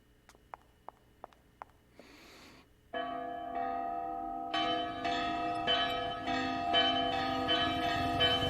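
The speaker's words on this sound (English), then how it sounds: "I'm positive it's used to ring the bell on the roof." A bell on a church roof in the adventure game Runaway 3 rings several loud resonant strokes with long sustained overtones, preceded by a few sharp clicks and a breathy sound.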